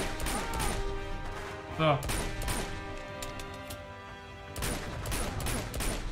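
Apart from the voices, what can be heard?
gunfire warning shots in Uncharted 2 video game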